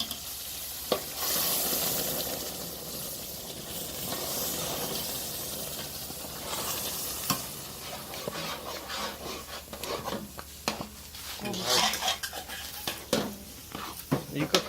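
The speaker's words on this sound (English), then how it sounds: "she added some raisins, and then she's frying now" Steady crackling sizzle of dough with raisins frying in hot oil, with scraping and stirring clatters from a utensil in the pan throughout.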